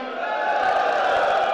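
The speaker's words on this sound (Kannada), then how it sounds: "ನಮ್ಮ ವೀರ ಯೋಧರಿಗೆ ಒಂದ್ಸರಿ ಜೋರಾಗಿ ಜೈಕಾರ ಹಾಕಿ." At a Youth Congress rally, a large crowd roars a loud, sustained cheer for the country's brave soldiers, a continuous dense wall of voices with no breaks.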